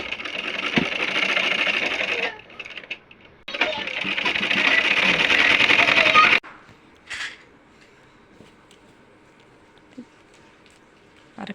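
A domestic sewing machine stitches a topstitch seam on a gathered frill for children's clothes sewn from leftover fabric scraps, running in two long steady bursts with a short pause, then stopping into near quiet with a faint clack.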